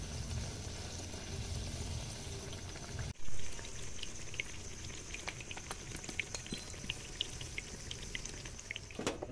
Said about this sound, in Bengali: তেল খুব ভালো করে গরম করে নিয়েছি, এবার ভেজে নেব রাধা বল্লভী।